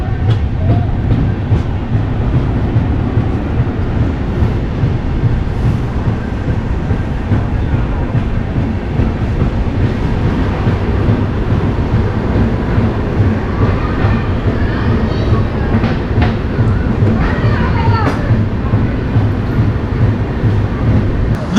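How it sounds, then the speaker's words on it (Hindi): A passenger train rolls into Bharatpur Junction station in India with a loud, steady low rumble and faint clicks of wheels over rail joints, continuing for the full length without speech. "कोई ट्रेन आ रही है।"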